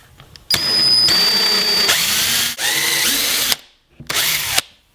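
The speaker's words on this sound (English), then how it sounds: "I'm using a special drill bit to make my holes" A power drill with a countersink pre-drill bit whines steadily for about three seconds as it bores, pauses, then gives one short final burst; close and loud with no talking.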